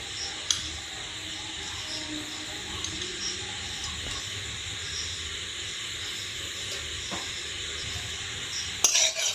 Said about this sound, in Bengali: কড়াইয়ের মধ্যে সর্ষের তেল দিয়ে দেবো।